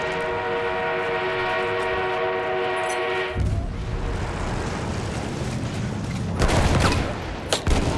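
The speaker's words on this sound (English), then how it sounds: "Train en route." A train moves in the video game Battlefield 1, a steady tonal hum giving way to a loud rumbling, clattering roll with bursts of noise near the end.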